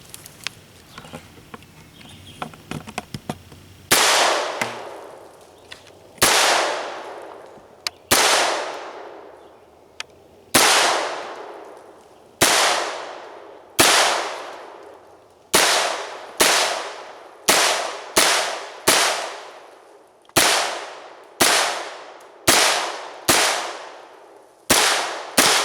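A Sig Sauer MPX P 9 is fired at targets outdoors, with about fifteen loud, sharp single shots at uneven intervals that come faster toward the end, each followed by a ringing decay. Quieter handling noises come before the first shot.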